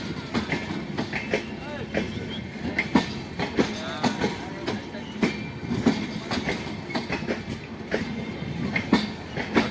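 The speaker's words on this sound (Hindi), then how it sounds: "तो हावड़ा एक्सप्रेस है, योगनगरी ऋषिकेश हावड़ा एक्सप्रेस।" The Yog Nagari Rishikesh–Howrah Express, a long Indian Railways train, rolls past at Jaunpur Junction with loud, steady rumble and repeated clickety-clack of wheels over rail joints throughout.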